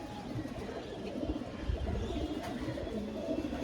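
A pair of green Chotial pigeons coo in a steady low murmur under a constant noisy backdrop, faint and close by.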